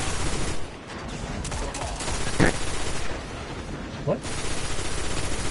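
Weapon gunfire in the Destiny video game sounds as rapid bursts of shooting, with a sharp louder shot partway through. Another burst follows later, and a voice speaks briefly between them.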